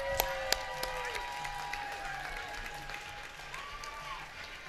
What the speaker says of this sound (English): How about a round of applause for our police officers?